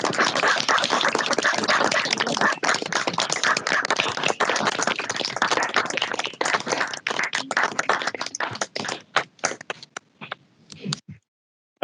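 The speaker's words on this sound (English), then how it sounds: "can we have a round of applause for these colleagues as well" A round of applause from the audience at a workplace recognition of learning ceremony, brisk close clapping that goes on for several seconds and then breaks into scattered individual claps before stopping.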